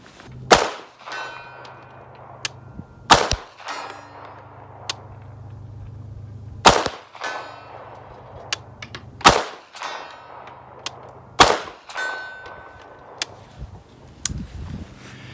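A CMMG Banshee pistol firing at steel targets outdoors, sharp single shots spaced a couple of seconds apart, each followed by a ringing clang and a short decay.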